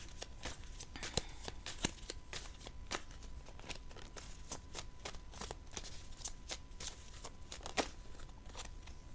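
Tarot cards are drawn and handled from a deck in a series of quiet, close, crisp card snaps and flicks, irregularly spaced over a soft background hiss.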